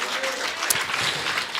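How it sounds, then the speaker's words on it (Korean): Brief, steady applause from a church congregation during a Sunday service, a short wash of many hands clapping together at moderate loudness. "주님께 영광의 박수 돌리겠습니다."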